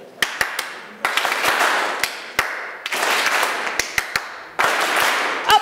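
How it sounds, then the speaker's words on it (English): An audience claps back rhythms in a clapping game, sharp single claps alternating with bursts of loud group clapping in a steady call-and-response pattern. "We're going to do a clapping game, okay?"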